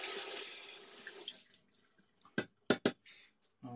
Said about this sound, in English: So let's wash the carrot.